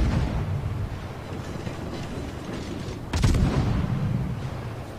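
Warship guns firing in World of Warships, a continuous rumbling barrage with a heavier boom about two-thirds through, loud and without talk.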